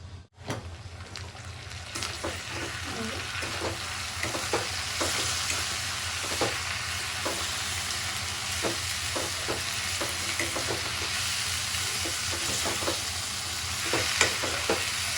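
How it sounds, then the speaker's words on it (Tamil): Bitter gourd and grated coconut stir-frying in a pan: a steady, close sizzle with scattered scraping and stirring clicks throughout, no voices. "இப்போ நம்ம தேங்காய் போட்டு கரட்டிக்கிடலாம்"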